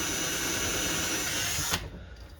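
A power drill whines loudly and steadily, boring holes for a tip-out tray being installed during a kitchen cabinet remodel, then stops abruptly near the end, leaving a faint residual hum.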